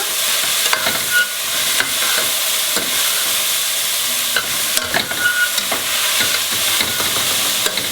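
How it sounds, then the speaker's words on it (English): Celery sautéing in a hot pan for pasta with red clam sauce, with a loud continuous sizzle and repeated scraping strokes of a stirring utensil, close and with no talk. "So in goes some celery. And we can give this a quick stir."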